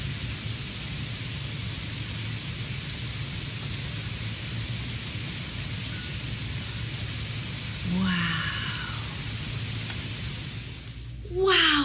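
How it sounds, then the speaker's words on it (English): Rainstorm with steady hiss of falling rain that continues throughout, with a brief louder swell near eight seconds and another at the very end. "let's all take a listen to the rain"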